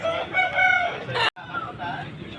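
Rooster crowing at a Vijayawada rooster market, one loud, nearby cock-a-doodle-doo, followed after a brief cut by another crow mixed with background market sounds.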